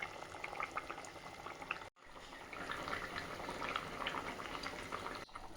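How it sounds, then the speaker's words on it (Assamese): Water boils vigorously in a pot for an Assamese fish curry, a steady dense bubbling broken by two brief sharp gaps, fairly close and alone without voices. "এতিয়া মই ইয়াতে উতলা পানী দি দিছোঁ আৰু বকবককৈ উতলিব দিম।"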